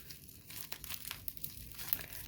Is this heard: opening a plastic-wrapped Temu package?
yes